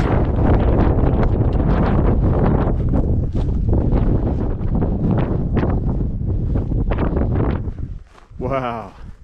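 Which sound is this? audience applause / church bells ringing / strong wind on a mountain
strong wind on a mountain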